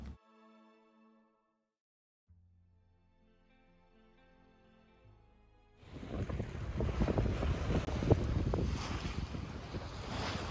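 Wind rushing over a sailboat at sea off Portimão, Portugal, loud and broad after quiet tones and a low hum at the start, with gusty buffeting and the wash of waves over the last half.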